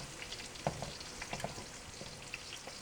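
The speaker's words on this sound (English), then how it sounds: "And then you want to stir fry that for 1 or 2 minutes" Aromatics stir-fry in hot oil for Szechuan pork, giving a soft, fairly quiet sizzle with a few sharp clicks of a utensil against the pan, heard alone and close by.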